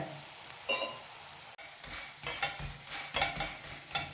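Cucumber roti frying in a pan with a light coating of oil, a steady close sizzle with stirring and scraping noises, no voices.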